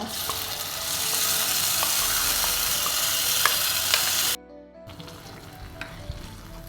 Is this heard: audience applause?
no